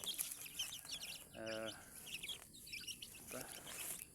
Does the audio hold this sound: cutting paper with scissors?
no